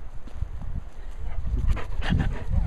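A dog close by, panting and snuffling with a few soft whimpering sounds while a person speaks to it.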